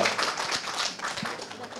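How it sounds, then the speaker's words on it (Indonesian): Scattered clapping from a small group, soft and somewhat distant, with a voice audible underneath. "Kita beri tepuk tangan buat mereka berdua ya."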